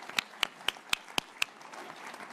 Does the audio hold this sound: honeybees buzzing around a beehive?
no